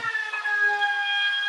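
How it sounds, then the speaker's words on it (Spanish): A siren sounds outside, a steady high wail of stacked tones holding at a fairly loud level for the short stretch with no talk over it. "Me pareció una sirena."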